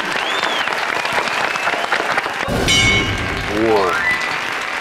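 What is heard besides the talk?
studio audience applause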